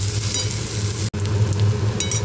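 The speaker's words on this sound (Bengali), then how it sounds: "পেঁয়াজটা ভাজা ভাজা হয়ে গেছে। এবার আদা বাটা দিয়ে দিলাম, আর টমেটোটাও দিয়ে দিলাম।" Onion, ginger paste and tomato sizzle and fry in a pan, a steady close hiss with a brief stir and a short dropout in the middle.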